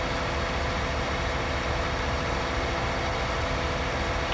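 A tractor engine in a farming simulator video game set on a Michigan farm, droning as a steady, dense low rumble with no change in level and no voices.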